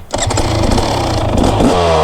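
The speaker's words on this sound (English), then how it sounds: "Kickstarting a bike really isn't difficult whatsoever." A 2024 KTM 250 SX two-stroke motocross bike firing up after a kickstart, a loud close engine running with a steady buzzing idle that rises slightly toward the end.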